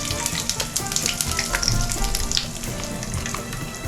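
White cumin seeds sizzle in hot oil in a Bengali kitchen for katla fish curry, a steady crackling fry with sharp pops throughout, close and fairly loud with no talking.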